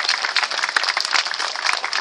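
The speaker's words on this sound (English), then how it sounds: "How about a round of applause for our porpoising, please?" Audience applause at a sea lion show at Chessington, a brief burst of crowd clapping, bright and busy, heard outdoors at moderate distance.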